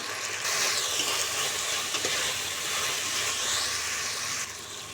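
Vegetables for sambar frying in a pan with turmeric and chilli powder, a steady close sizzle with faint stirring, no voices.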